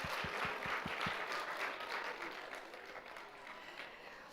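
A round of applause from an audience at a Jubilee school graduation and orientation ceremony, opening with a few distinct heavy claps before blending into a steady wash of clapping that slowly fades.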